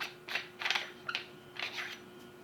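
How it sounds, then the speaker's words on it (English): Handle of a CO2 injection knife being unscrewed, several short dry creaking, ratcheting twists in quick succession, close and quiet. "You literally just unscrew the handle"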